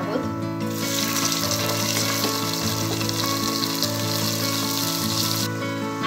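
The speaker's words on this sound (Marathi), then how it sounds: "हा बासमती तांदूळ तेलामध्ये भाजून घेणार आहोत" Soaked basmati rice fries in hot oil with ginger-garlic-chili paste in a pan, giving a loud, continuous, close sizzle with a crackling hiss throughout and no speech.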